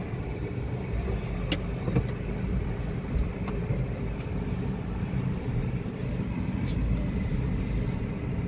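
A Hyundai Grand i10 hatchback converted to run on CNG drives along, its steady engine and road rumble filling the cabin at an even level from start to finish, with no voices.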